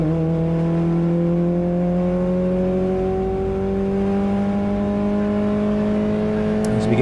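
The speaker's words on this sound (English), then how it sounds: "As we get some good sound from the inside of that number 7 car" Onboard engine of a Mini Cooper race car in a Scottish Mini Cooper Cup race, a steady loud drone that climbs smoothly in pitch as it accelerates along the circuit, with no voices over it.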